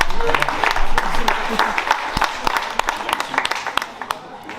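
An indoor crowd at a season launch applauds, a dense patter of many hands, strongest at first and thinning toward the end, with voices mixed in.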